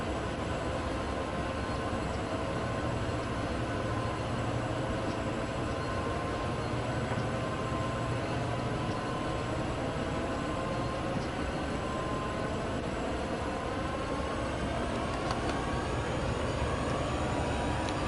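A locomotive in Train Sim World 6, heard from an external view, produces a steady, unbroken engine drone with rolling wheel noise, moderately quiet and continuous throughout.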